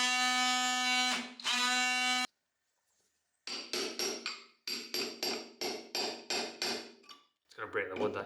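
Repeated sharp hammer strikes drive a chisel into wood during an off-grid bedroom renovation, landing in quick, evenly spaced bursts of close, ringing impacts after a short pause.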